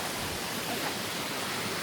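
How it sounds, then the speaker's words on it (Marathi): Continuous close rush of shallow stream water on the Pavankhind trek near Kolhapur while walking through it, steady and even with no talk. "आता आम्ही चाललोय या ओढ्यातून"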